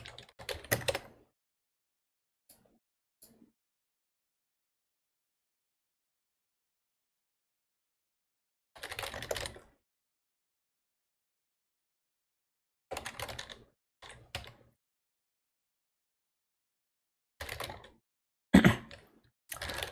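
Someone types on a computer keyboard in short, quiet bursts of clicking keystrokes, separated by long silent gaps.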